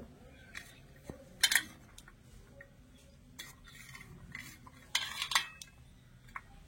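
Leftover rice being measured into a bowl, quiet scraping and a couple of brief metallic clinks of a utensil against the bowl, close and faint.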